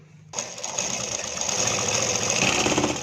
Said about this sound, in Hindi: तो हम अभी सिलाई लगाएंगे।